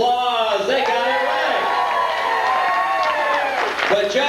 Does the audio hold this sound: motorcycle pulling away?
no